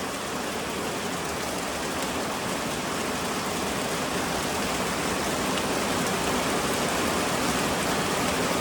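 Steady heavy rain pours down outdoors at a makeshift shelter for a young animal, a dense, continuous hiss with no pauses, loud and close throughout.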